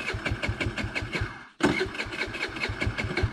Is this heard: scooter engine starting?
yes